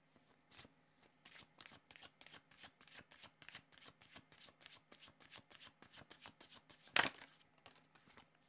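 Oracle cards are shuffled by hand in a rapid, even riffle of soft papery flicks, close and quiet, with one sharper snap near the end.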